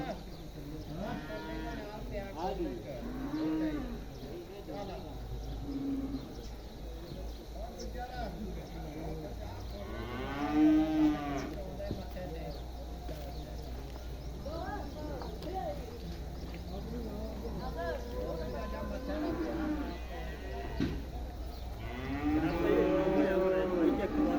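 Friesian-Jersey cross dairy cows moo now and then during milking, a few drawn-out, close calls spaced across a stretch of ongoing conversation.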